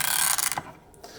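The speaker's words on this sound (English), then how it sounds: "I'm going to turn this, and that's what winds the mechanism." A key turns to wind the clockwork mechanism of an antique musical Christmas tree stand, giving a short burst of close ratcheting clicks and rubbing that stops abruptly, followed by a faint click.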